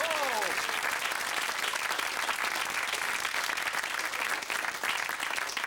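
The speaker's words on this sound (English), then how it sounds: "Give her a clap!" Audience applause after a sawing-someone-in-half magic trick, dense steady clapping throughout with a brief voice at the start.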